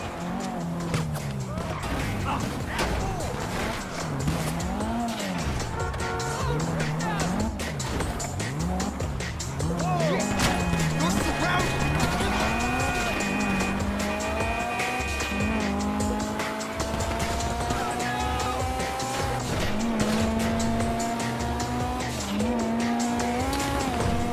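A heist car in GTA V speeds along, its engine revving up and down continuously with repeated tire squeals and skids, loud and unbroken throughout.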